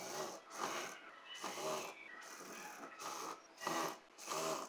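A sewing machine stitching lehenga fabric in repeated bursts, each a whirring, rattling run of stitches separated by short pauses, close and moderately quiet with no talking.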